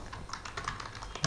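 Rapid typing on a computer keyboard, a quick irregular run of light, close key clicks with no voices.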